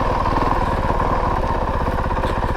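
A 2022 Honda CRF450RL motorcycle engine drones steadily and loudly up close while the bike is ridden slowly around town, a continuous low, buzzing throb with no break.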